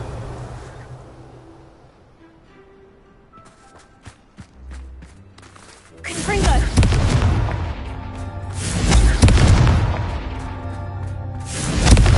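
In the Hogwarts Legacy video game, a Confringo explosion spell goes off as loud booming blasts with rumbling debris, coming in bursts after a quieter stretch of light knocks and footsteps.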